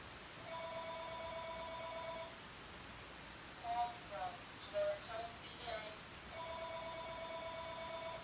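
A telephone rings in repeated electronic trills, faint and steady, pausing briefly while a person speaks over it, then resuming.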